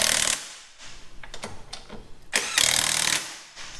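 Impact wrench hammering lug nuts onto new Work Meister wheels on a Supra, two or three loud rattling bursts separated by short pauses, close by with no talking.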